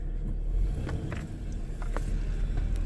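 A 1993 Nissan Cedric, right-hand-drive Japanese import, pulling away in drive: low steady engine rumble with road noise and a few faint clicks, moderately loud and close, no talking.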